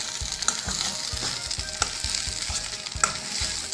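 Onions and potatoes sizzle and fry in a pan over low flame while a utensil stirs them with regular scraping strokes, close and continuous, with no talk.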